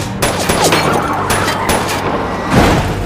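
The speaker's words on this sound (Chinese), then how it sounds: "大姐见到来人不是弟弟，立马连续向车开枪" A rapid burst of gunfire at a car cracks repeatedly over a loud dramatic soundtrack in a film, the shots coming in quick uneven succession.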